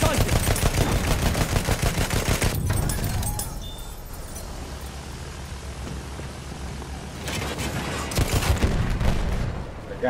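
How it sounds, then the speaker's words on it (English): Rapid bursts of machine gun fire in the Battlefield 1 video game, loud and close for the first few seconds, then a quieter lull before more dense volleys of automatic fire return near the end. "Enemy machine gun, sighted!"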